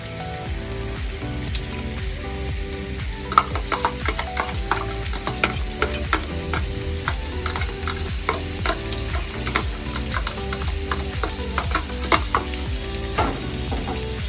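Onions and pepper fry in groundnut oil for a yam and egg sauce, a loud close sizzle with frequent rhythmic scraping and tapping of a spoon against the pan throughout.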